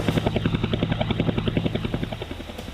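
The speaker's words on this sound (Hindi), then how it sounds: "मेरे पीछे है ALS ध्रुव मल्टी यूटिलिटी हेलीकॉप्टर्स, और ख़ास बात ये कि भारत द्वारा निर्मित है, HAL द्वारा" An HAL ALH Dhruv multi-utility helicopter at an airbase, its rotor thudding in a fast, steady rhythm over a loud turbine whine, close by and continuous.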